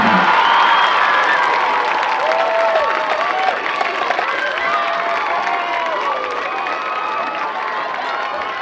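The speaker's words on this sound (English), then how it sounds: "how about a round of applause to the Jonesboro Band?" Sustained crowd applause and cheering for a marching band at a high school football game, a steady wash of clapping with scattered whistles and shouts, fairly loud and continuous.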